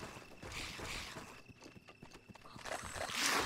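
A horse's hooves clip-clop in The Legend of Zelda: Breath of the Wild on Switch, a quick uneven patter of game footsteps that fades midway and swells again, fairly quiet overall.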